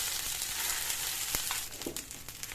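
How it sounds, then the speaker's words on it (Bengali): Green pea paste with spices frying in a pan while being stirred, a continuous hissing sizzle close up with soft scraping strokes toward the end. "কিছুটা পেস্ট দিয়ে একটু নাড়িয়ে নিচ্ছি, নাহলে মশলাটা পুড়ে যাবে"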